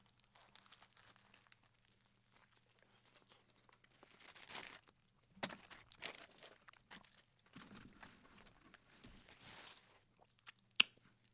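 Someone bites into and chews a barbecue turkey sandwich from a gas station, with soft, irregular crunching and mouth sounds close to the ear, quiet overall, plus faint rustling and one sharp tap near the end.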